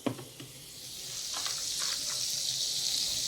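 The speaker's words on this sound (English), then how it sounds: "Let's add some butter into the pan." Butter dropped into a hot frying pan, a couple of soft knocks followed by a rising, steady sizzle that stays close and even.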